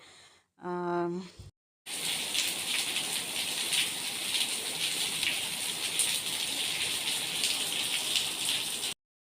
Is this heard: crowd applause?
no